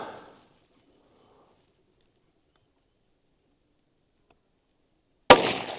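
A single sharp rifle shot from a .17 HMR Ruger Precision Rifle, loud and close, cracking suddenly near the end after a long stretch of near silence.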